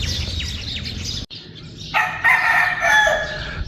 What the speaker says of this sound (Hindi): मुर्गा और मुर्गी ने दोनों चारपाइयाँ संभाल ली हैं।